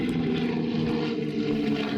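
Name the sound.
de Havilland Mosquito wooden aircraft, twin Spitfire engines, flying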